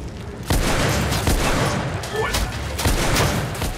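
Pistol fire in The Order: 1886 cracks out in several sharp, loud shots at an uneven rhythm amid a dense wash of other combat noise.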